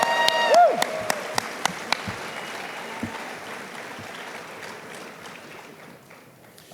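A convention crowd at Everfree Northwest applauds, broad clapping filling the room with a few sharp near claps and a whoop early on, tapering off toward the end.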